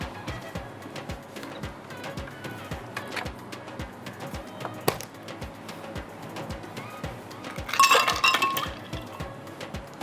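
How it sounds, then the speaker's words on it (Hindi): Ice cubes clink against a glass holding a milk and pink syrup shake, producing steady, evenly spaced light clinks. A louder, busier cluster of clatter comes near the end. "आइस रखी हुई है मेरे पास, वो मैं इसमें डाल देती हूँ"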